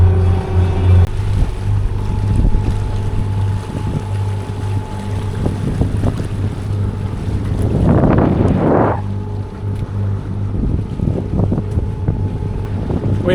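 A sailboat motoring around Cape Malea in strong wind, a steady low engine drone with tonal hum under continuous wind buffeting on the microphone, plus a brief louder gust or splash burst midway.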